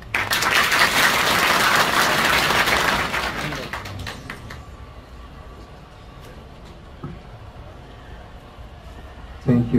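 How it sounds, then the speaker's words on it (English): A crowd claps loudly for about four seconds at a Maulud gathering in Abuja, then the applause fades out into quiet room noise, with a brief burst of sound at the very end. "Please, a round of applause for him."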